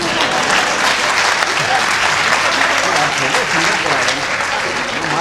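Sustained audience applause fills a Hindi kavi sammelan poetry recital hall, dense and steady clapping from a large crowd throughout, loud and unbroken with no clear speech over it.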